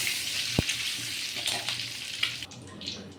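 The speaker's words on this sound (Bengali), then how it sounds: "এখন প্রথমে আমি ডিমটাকে ভালোভাবে ভেজে নিব" Egg sizzles steadily in hot oil in a pan, a dense close hiss with a sharp clack near the start and faint stirring scrapes.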